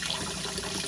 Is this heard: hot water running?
yes